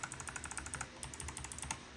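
Fast, even typing on a mechanical keyboard with Kailh Box clicky switches produces a close run of crisp, sharp key clicks at a steady pace, with no talking.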